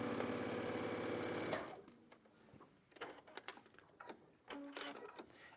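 A sewing machine stitches a strip of striped fabric in a fast, steady whir for about a second and a half, then stops, leaving light handling clicks and rustles of fabric.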